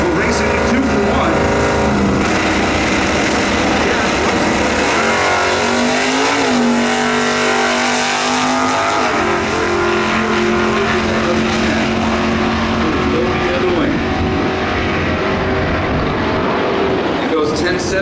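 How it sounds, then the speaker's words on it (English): A drag race car makes a solo pass in stock eliminator at the NHRA Sonoma Nationals, a loud sustained engine roar with rising revs and gear changes under continuous track announcer commentary. "here's Brian Phillips on a solo shot into the quarterfinals."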